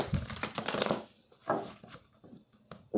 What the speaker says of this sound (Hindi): 3 कार्ड्स हम इस डेक से निकालेंगे।